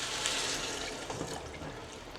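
Water is poured over chopped onion and pepper in a pot for goulash, making a steady, close splashing and gurgling pour that runs unbroken for about two seconds with no talking.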